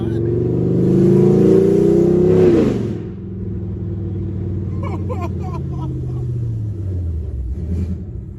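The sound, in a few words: 5th gen Camaro SS exhaust revving with long tube headers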